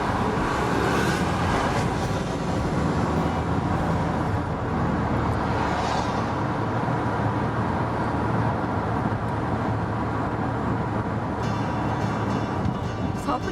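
A car drives along a cloudy upstate road, giving a steady broadband rumble of tyres and engine from inside the cabin throughout, with no clear speech over it.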